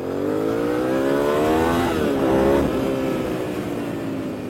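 A Suzuki SV650S motorcycle accelerates hard, its engine note rising steadily through the gears, loud and close throughout, with no voices.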